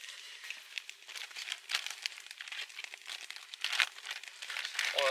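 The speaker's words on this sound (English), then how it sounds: "some paper to clean my pan directly after it" Paper crumpled and rubbed while cleaning a cooking pan outdoors on an autumn overnight camp in Sweden, a close, continuous crinkling and rustling with irregular louder scrunches throughout.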